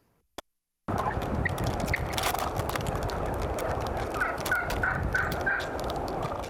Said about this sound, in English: an aggressive flock of large turkeys in a New Jersey community